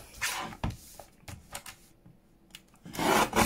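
Paper is trimmed with a cutter while preparing digital kit pieces for pocket flip-outs. Several scraping, rasping strokes come close and alone, with a quiet pause in the middle and a longer, louder rasp at the end.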